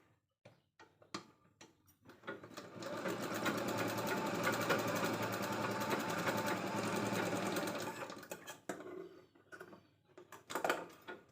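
A sewing machine stitches leftover blouse border fabric into a pocket, running in one continuous close, steady whirring burst of about six seconds, with soft handling clicks and fabric rustle before and after.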